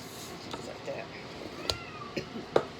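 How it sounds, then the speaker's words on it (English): A domestic cat meows a few times in a kitchen, faint and intermittent, over quiet background noise. "That's my cat."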